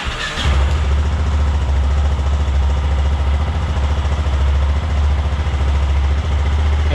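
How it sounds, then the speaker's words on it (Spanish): A motorcycle engine cranks and catches, then runs at a steady, loud, close idle with an even mechanical clatter throughout, no voices. "Vamos a arrancar la moto"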